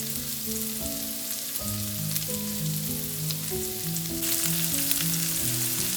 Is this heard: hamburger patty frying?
yes